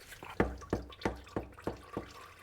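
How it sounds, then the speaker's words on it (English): Transmission fluid from a 2012-2019 Subaru Legacy/Outback TR690 transmission drips steadily into a drain pan, about six distinct close plops in an even rhythm, with no talking. "Make sure our pan is in a good spot to collect any drips."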